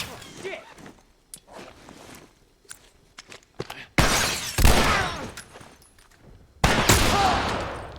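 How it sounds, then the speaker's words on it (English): Pistol and rifle gunshots in The Last of Us, a sharp loud burst near the middle followed by another blast later, set among quieter game footsteps and rustles. "Pistol headshot, rifle body shot, pistol headshot."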